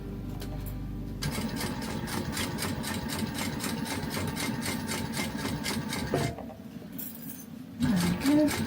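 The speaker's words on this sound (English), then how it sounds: "I'm just going to backstitch at the start and finish of each window." A sewing machine stitches a badge cover in a steady, close whirring run, pausing briefly for backstitching near the end before starting up again.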